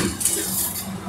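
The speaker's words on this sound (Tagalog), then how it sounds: "i-mix natin para ma-mix yung lahat ng ingredients" Metal spoon scraping and clinking in a pot while mixing rice, onions and grape-leaf stuffing ingredients for Saudi-style mashi, a close continuous stirring clatter.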